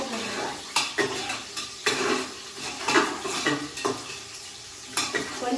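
Onions or spices sizzling in a pan while a metal spoon stirs and scrapes against it, irregular clanks and scrapes over a continuous close frying hiss.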